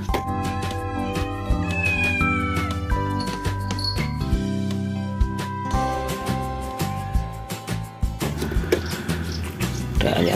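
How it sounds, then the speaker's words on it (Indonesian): Repeated cat meows over a busy mix of tones and clicks, fairly loud and close, the calls coming in short bursts. "ada ibu kucing dan anak kucing"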